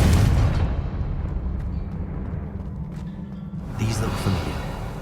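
Confringo explosive spell from Hogwarts Legacy, a loud booming blast that rumbles and decays over several seconds before a second burst swells near the end.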